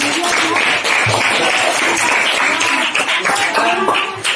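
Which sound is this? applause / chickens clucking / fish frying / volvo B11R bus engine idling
applause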